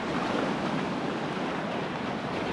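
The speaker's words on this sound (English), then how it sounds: "Having fun in the waves." Rough ocean surf at a Punta Cana beach, a steady broadband wash of breaking waves with wind noise buffeting the microphone, loud and continuous throughout with no talk.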